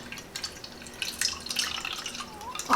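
Kajari melon seeds being rinsed under a running kitchen sink tap: a steady, close wash of splashing water with small dripping spatters, fairly faint and without any talk.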